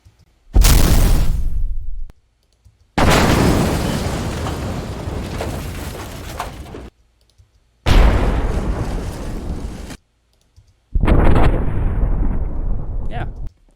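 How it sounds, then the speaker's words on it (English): Four separate reversed explosion effects, each a roaring swell that builds from nothing and cuts off abruptly, separated by short silences, loud and close. "another sound that I like to reverse is an explosion"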